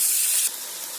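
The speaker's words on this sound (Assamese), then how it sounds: "ইয়াত মই কাটি থোৱা পিঁয়াজখিনি দি দিম।" Chopped onions drop into hot oil with a loud burst of sizzling spray that quickly settles into a softer, steady sizzle.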